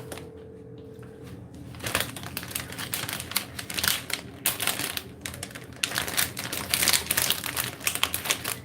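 A resealable plastic bag of small white potatoes being torn open in a kitchen, giving bursts of crinkling, rustling plastic with potatoes shifting inside, fairly close and alone, growing busier toward the end.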